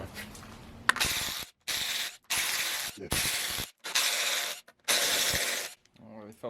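Ratchet wrench loosening bolts on a VW TSI engine during timing work, several bursts of rapid clicking, each lasting about half a second to a second, separated by short pauses, close and fairly loud.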